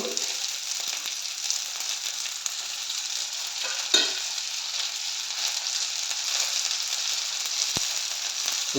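Soya chunks and capsicum stir-fry in a pan, giving a steady broad sizzle that runs continuously with a couple of brief utensil knocks and no talking.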